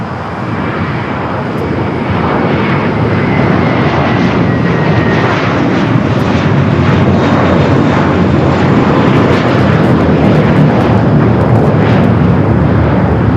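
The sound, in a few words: American Airlines flight 613 taking off from LAX runway 25 right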